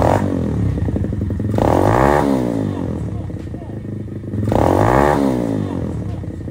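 A motocross motorcycle revs hard and rides off road, engine pitch rising and falling in two loud surges with gear-change whines, close by and alone.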